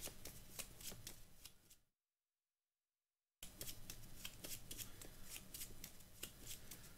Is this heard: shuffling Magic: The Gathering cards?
yes